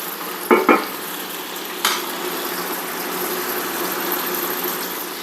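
Sausage fries in a pan at about medium heat, giving a steady, soft sizzle, broken early by two sharp utensil clatters and a later scrape, with no talking.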